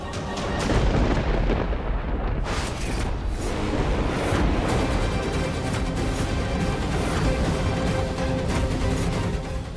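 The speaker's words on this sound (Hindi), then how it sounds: "बेटा, तूफान पड़ रहा है, अब इस खराब मौसम में घर से बाहर जाना पता नहीं ठीक रहेगा भी कि नहीं।" Thunder from a violent storm rolls as a loud, sustained rumble, with heavy booming surges early on and a dense roar that keeps going throughout.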